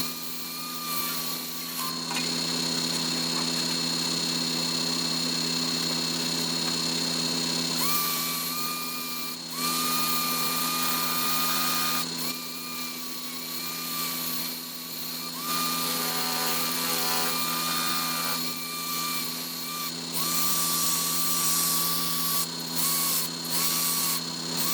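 Sanding a wooden hollow form on a lathe with 80 grit paper: a loud, continuous mechanical whir with steady tonal hum and shifting scraping texture as the paper presses on the spinning wood, no talking.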